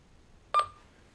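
A VHF DSC marine radio gives one short, clear electronic beep as the enter key is pressed, alone in near silence.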